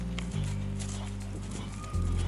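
Hooves of a horse in show jumping training thud and clip-clop steadily on an outdoor arena under a constant low hum, moving in a running rhythm.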